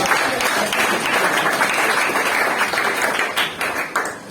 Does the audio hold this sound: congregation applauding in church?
yes